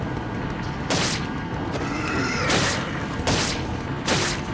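Shotgun blasts in the video game Resident Evil 4: four loud, sharp booming shots spaced roughly a second apart over a steady game background, with no voices.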